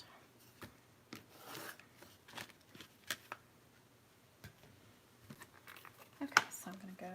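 Scissors cutting ribbon or trim for a homecoming ring mum, a series of short crisp snips and rustles at close range, with sparse quiet handling noises between them.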